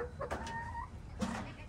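Soft, low clucking from chickens settling on a roost, with faint murmuring calls over a steady background hum.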